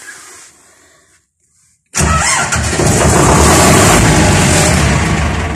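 An Ursus C-360 tractor engine, long unused and recently overhauled, cranks briefly, falls silent, then fires up abruptly into a loud, steady, close diesel idle with a rough mid-range rumble.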